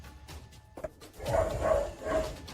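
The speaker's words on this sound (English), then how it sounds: "Some of the dogs in his neighborhood are going crazy" Dogs bark in a neighborhood, a few muffled barks rising in the second half, moderately distant over a low background rumble.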